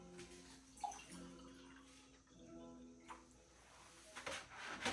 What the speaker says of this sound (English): just put some water in it